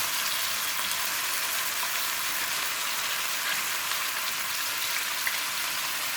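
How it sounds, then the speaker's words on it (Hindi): Onions frying in hot oil in a kadai, a steady dense sizzle and crackle like light rain that holds evenly throughout without pause. "प्याज़ों को हम इतना फ्राई करेंगे कि प्याज़ों का कलर गोल्डन हो जाए।"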